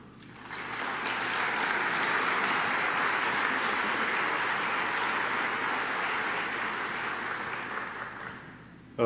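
Sustained applause from a conference audience at the APPA 2013 National Conference, welcoming a speaker to the stage; steady, dense clapping that swells quickly, holds for about eight seconds, then tapers.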